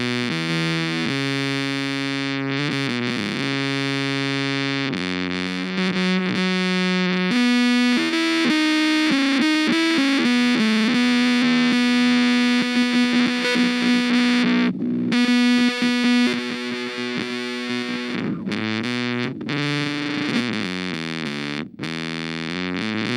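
A distorted electric guitar plays through a Boss Katana-Mini X small amp, giving thin, buzzy, sustained notes and slow bends that are loud and continuous, with brief gaps between phrases.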